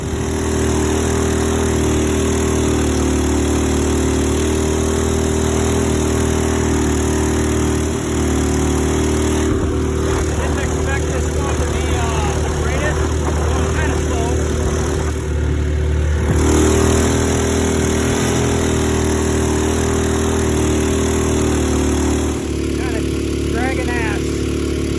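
A 6.5hp 212 engine on a longtail boat with a 6.5 inch prop runs warm and steady, a loud droning hum throughout, with voices talking over it at times.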